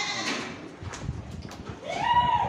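Goats bleat inside an enclosed goat farm holding more than 150 goats. Faint animal noises and rustling come first, then one clear, wavering bleat rises near the end.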